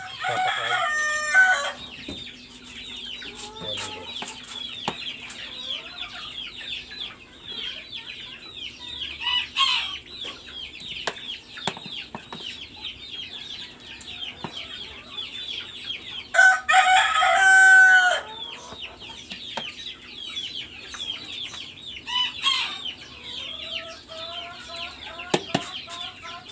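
Backyard chickens cluck steadily at feeding time, with several loud rooster crows breaking through at intervals and faint talk now and then.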